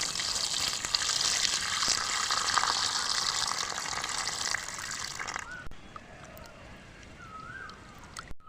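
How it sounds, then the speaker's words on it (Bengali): Cold tap water gushes and splashes steadily over hot boiled raw mangoes being rinsed, loud and continuous, then stops abruptly, leaving quieter handling and faint background sounds. "আমগুলোকে ঠান্ডা করার জন্য ঠান্ডা জল দিয়ে বারবার আমি ধুয়ে নেব।"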